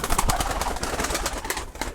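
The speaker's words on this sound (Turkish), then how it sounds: "bir tane dişi güvercin attık" Several pigeons in a coop, seven males and one female, coo nearby in low, throaty, overlapping calls, joined by fluttering and shuffling, with no talking.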